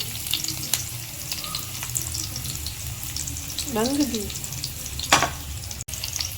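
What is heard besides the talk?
spices sizzling in hot oil (tempering)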